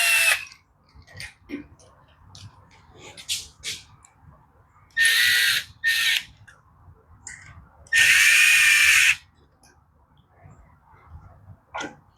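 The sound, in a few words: tightening screws on a Coleman CT100 minibike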